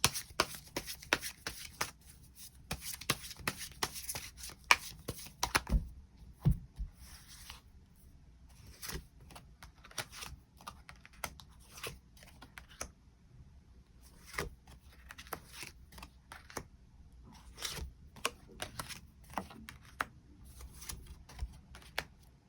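Tarot cards are shuffled and drawn in a quiet room, with dense rapid riffling at first, then sparser soft slides and taps as individual cards are pulled and laid down.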